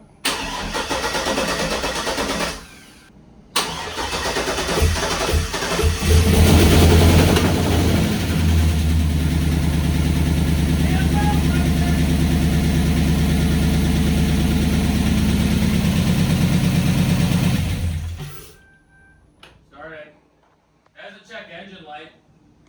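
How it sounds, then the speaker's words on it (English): After a cam swap with PRC heads and a Texas Speed cam, a Chevrolet TrailBlazer SS engine cranks, fires and revs, then idles loudly and roughly for about ten seconds before shutting off, with people talking afterward. "It did a little backfire there."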